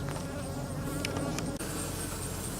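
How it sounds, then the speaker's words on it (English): Honey bees buzz steadily and densely around hive boxes at a honey harvest, a close, continuous drone with a few louder passes as single bees fly near. "That's the fume board, which drives the bees down into the lower boxes."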